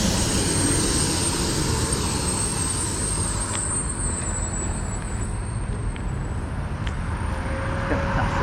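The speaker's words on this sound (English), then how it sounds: "Garbage truck." Garbage truck rolling along a city street, a broad continuous rumble of engine and traffic at moderate distance that holds steady for several seconds, with no one speaking.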